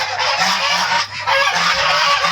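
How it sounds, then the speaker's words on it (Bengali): Several Chinese geese honking repeatedly and loudly up close on a duck farm, harsh overlapping calls in a steady chatter. "এই জায়গায় দর্শক কিছু রাজা হাঁস আছে"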